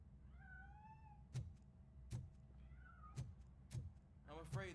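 A cat meows a few times in the Robocop Rogue City video game, its rising tonal calls set among sharp knocks and thuds over a steady low background hum.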